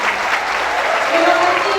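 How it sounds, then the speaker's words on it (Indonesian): Applause from an audience at a public lecture given at a Bank Indonesia teaching event: a brief, continuous wash of clapping with some voices or tones faintly mixed in. "Sekali lagi berikan tepuk tangan yang paling meriah."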